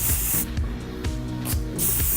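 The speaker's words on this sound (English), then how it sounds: "You can spray on the hair and brush through as well" Joico hairspray is sprayed onto hair in three short hissing bursts, with steady background music running underneath.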